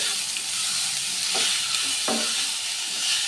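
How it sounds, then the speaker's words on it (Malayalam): Chopped banana flower thoran with salt sizzles steadily in a pan while being stirred, with a couple of scraping strokes standing out over the constant frying hiss and no voices. "കുറച്ച് ഉപ്പും കൂടെ ചേർത്ത് നന്നായിട്ടൊന്ന് ഇളക്കാം."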